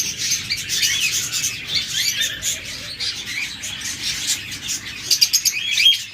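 Caged budgerigars, cockatiels, lovebirds and doves chirp and chatter together in a dense, bright stream of overlapping tweets. A quick run of louder, sharper calls comes near the end.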